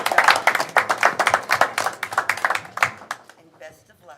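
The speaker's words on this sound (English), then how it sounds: "Let's give them another round of applause." A school board meeting audience claps steadily for a performing group, brisk hand claps close and fairly loud for about three seconds before tapering off.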